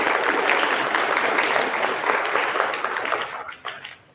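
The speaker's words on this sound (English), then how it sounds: "Such a great group to clap like that." Audience clapping at a sixth-grade continuation ceremony, a dense, steady burst of applause that thins out and trails off into a few scattered claps near the end.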